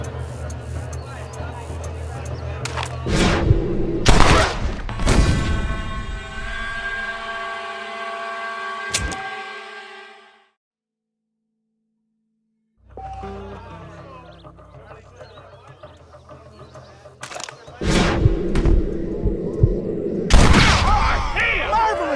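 Loud gunshots ring out in the Western video game Red Dead Redemption: several sharp, booming blasts in short clusters with a quiet gap between them, set against game ambience and a background murmur of voices.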